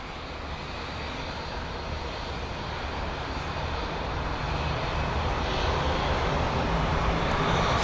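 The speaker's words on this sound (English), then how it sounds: "That's the 320 CEO heading to Paris CDG." An Airbus A320ceo airliner at London Heathrow, departing for Paris CDG, gives a steady engine roar that slowly swells louder over several seconds.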